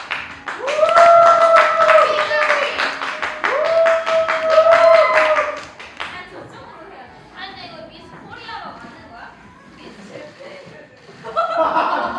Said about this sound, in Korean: 아, 박수가 작아서 다시 해야 돼